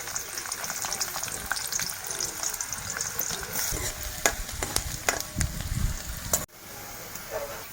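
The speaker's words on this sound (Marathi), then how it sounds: "तर फोडणीसाठी कांदे टाकूया।" Sliced onions tipped into hot oil in a heated kadai for tempering while cooking stuffed brinjal, a crackling sizzle with stirring scrapes and spits that cuts out sharply near the end, leaving a softer sizzle.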